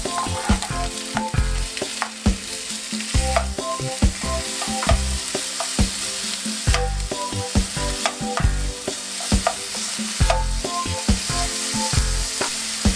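Chicken pieces frying with onions in an oiled pan for chow mein, a continuous loud sizzle broken by regular clinks and scrapes of stirring against the pan.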